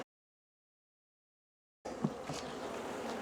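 Honeybees buzz in an opened Langstroth hive during a fall inspection: a faint, steady hum that starts suddenly after a stretch of silence and continues softly close by.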